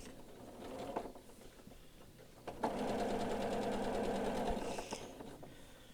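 A sewing machine stitches along the edge of a spring cloak, starting with a few short clicks and then running in a steady, fast mechanical whir for about two seconds before slowing to a stop.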